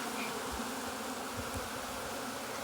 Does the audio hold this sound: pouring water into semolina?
no